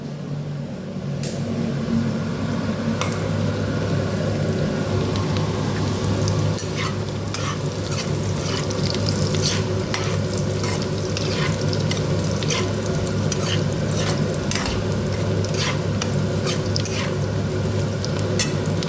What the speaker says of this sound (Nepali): मैले काटेर राखेको भेन्डीलाई पनि म केही बेर भुट्ने छु